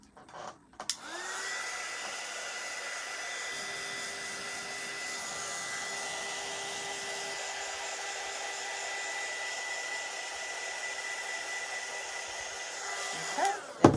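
A dryer blows hot air to dry ink on a slatted woodgrain barrel tumbler, giving a steady, even whir that starts abruptly and runs unbroken for about twelve seconds before clicking off.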